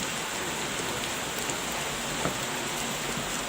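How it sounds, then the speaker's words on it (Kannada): Steady rain pours down in a dense, even hiss with occasional louder drops, no voices. "ಮಳೆ ಬರೋ ಥರ ಇದೆ, ಛತ್ರಿ ಬೇರೆ ಇಲ್ಲ."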